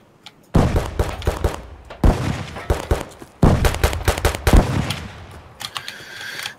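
Automatic gunfire in the video game Escape from Tarkov: several loud, close bursts of rapid shots with short gaps between them, ending in a faint hiss.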